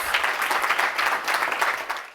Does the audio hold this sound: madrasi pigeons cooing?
no